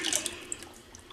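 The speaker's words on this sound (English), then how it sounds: "So I'm going to go ahead and pour this down the neck of the stick blender." Lye solution for cold process soap trickles down a stick blender into oils, a faint, brief splashing pour heard alone.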